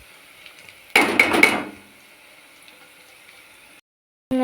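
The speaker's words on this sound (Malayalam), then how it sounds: "നല്ല രീതിക്ക് നമുക്ക് ഇളക്കി കൊടുക്കാം" A pan of soya ball fry with masala and turmeric powder is stirred: a short burst of scraping and clattering rises over a quiet background hiss, then fades back to near silence.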